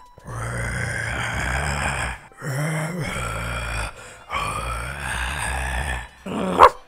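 A human voice imitates Growlithe, the dog Pokémon, with low growling, grunting bursts in three long phrases separated by short pauses, ending in a brief sharp yelp.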